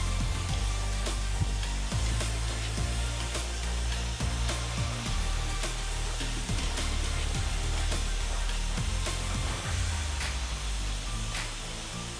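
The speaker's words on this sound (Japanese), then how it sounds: "揺らしながら乾かしていきます。" Hair dryer blowing steadily while drying a man's medium-length hair in a salon, a loud continuous whooshing hum with faint rustling from hands moving through the hair; no talking.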